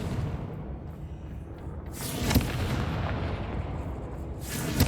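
A Confringo blasting spell goes off in Hogwarts Legacy, heard as a sharp explosive burst over rumbling game ambience, followed by a second broad blast near the end.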